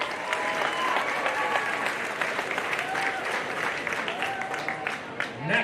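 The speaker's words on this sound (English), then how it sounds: "let's give Avenue County's first entry in the breeding heifer department from Lauren Phillips a big opening round of applause" A crowd of spectators claps steadily at a breeding heifer show at a county livestock event, the applause holding at full strength for several seconds before tapering off.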